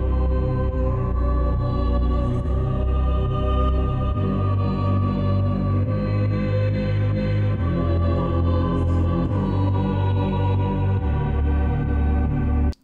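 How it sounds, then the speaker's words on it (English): A UK grime instrumental built in FL Studio plays its sample over a deep, stepping bass line, with rhythmic hits and cymbals running loud and steady throughout, then cutting off abruptly at the end. "Let's see what the sample sounds like with the bass now."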